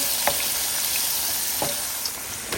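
Heaping tablespoons of garlic fry in a pan with a continuous close sizzle, broken by a few soft stirring taps, and no voices over it.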